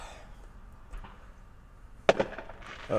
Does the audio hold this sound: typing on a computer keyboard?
no